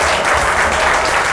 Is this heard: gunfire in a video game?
no